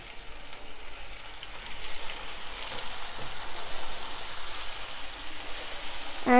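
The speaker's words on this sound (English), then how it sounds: "To this I'm going to add my onions." Two medium onions fry in a pan with oil for Chinese vermicelli noodles, giving a steady, soft, even sizzle that rises slightly over time. A small clink comes at the very end.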